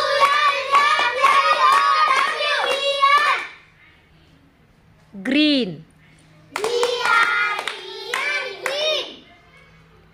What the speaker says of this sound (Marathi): टाळ्या अगदी न चुकता व्यवस्थित द्यायच्या आहेत